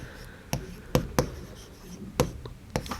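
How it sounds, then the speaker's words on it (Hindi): Writing by hand on paper during a class lesson, a few scattered taps and soft scratches of pen or chalk strokes, close and fairly faint, with quiet pauses between them. "तो हम यहाँ लिखेंगे हल्का"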